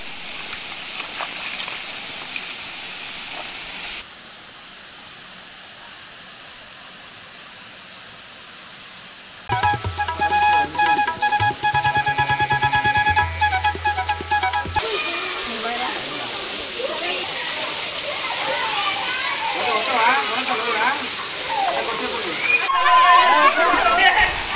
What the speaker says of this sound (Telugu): సుమారు రెండు కొండల మధ్య నుంచి 70 అడుగుల ఎత్తు నుంచి దూకే ఒక అద్భుతమైన జలపాతం ఇది